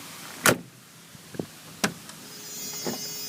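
A power window closes on a 1985 Rolls-Royce Silver Spur in a quiet car interior, with a few sharp clicks and short mechanical thumps spaced across a few seconds and a faint motor whir near the end.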